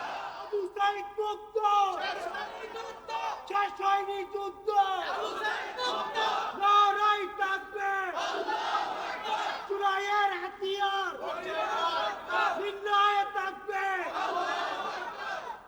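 A large crowd at an outdoor Islamic sermon gathering chants a slogan in unison, voices rising in repeated rhythmic bursts that swell and fall over several cycles, loud and sustained.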